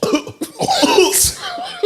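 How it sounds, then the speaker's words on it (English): A loud, sharp cough breaks out during a casual podcast conversation, a few rough bursts close to the microphone amid other voices and brief laughter. "Yeah, you coughed."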